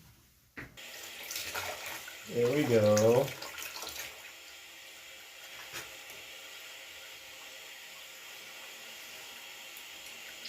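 Water runs steadily from a tap filling a bath for a pig for several seconds, a soft continuous hiss with a brief louder gush, while a person speaks briefly over it.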